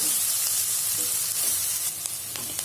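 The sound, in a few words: sautéing green chillies and curry leaves in a pan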